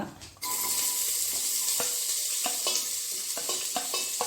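Chopped onion hits a hot pan and is stirred while it fries for a green pea and potato curry, giving a sudden steady sizzle with several scraping spoon strokes over it, close up, with no voices.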